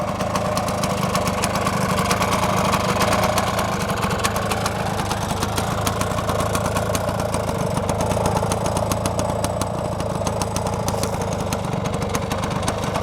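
Single-cylinder-style idle of a 1966 Sears Allstate Twingle 175 Puch two-stroke motorcycle, a steady close putter with a fast even rhythm throughout, no voices.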